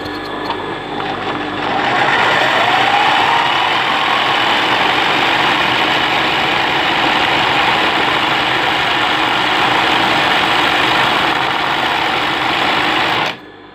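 An embroidery machine stitches a puffed flower design on fabric, running loud and close with a continuous rapid mechanical hum and chatter that holds steady for over ten seconds before stopping abruptly.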